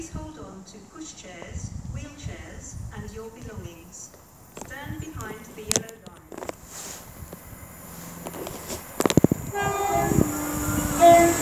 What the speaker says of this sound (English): now approaching is going to be a pair of cross-country turbo stars from Cardiff Central to Nottingham